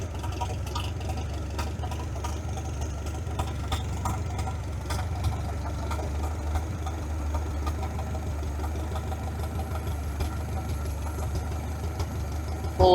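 A 1947 Farmall H tractor engine idles steadily at low volume, a low rumbling drone with light irregular ticks and clatter throughout and no talking.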